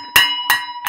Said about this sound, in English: Look, I have a pot pan and I have a spoon.